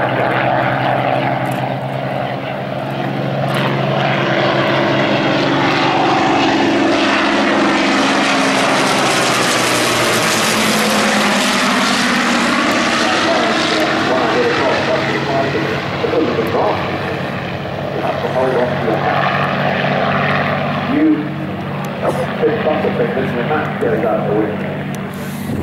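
Hawker Hind and Demon biplanes at Old Warden drone loudly with continuous propeller engine noise, swelling as they pass close overhead around the middle and easing afterward, with no talking.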